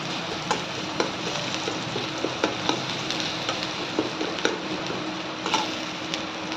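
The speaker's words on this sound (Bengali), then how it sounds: "এটা আমার গরম হয়ে গেছে আর এতে আমি দেব একটু চারটে পাঁচটা একদম রসুন" Four or five garlic cloves sizzle in hot oil for a Marathi-style potato dish, a steady close frying hiss broken by small rhythmic ticks and pops of stirring.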